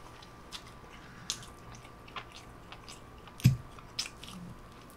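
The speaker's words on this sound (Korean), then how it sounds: "근데 역시 고기는 통으로 뜯어 먹어야 맛있다." Tearing and chewing a huge whole roasted meat leg: close, quiet bites and wet chewing in irregular bursts, with one louder crunchy tear partway through and no talking.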